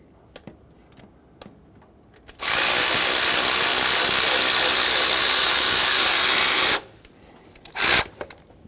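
A power tool, likely an impact driver, loosens 10mm alternator bolts on a 2000-2005 Ford Excursion 6.8L V10: one loud, steady burst lasting about four seconds, then a brief second whir, with quiet clicks and handling noises around it.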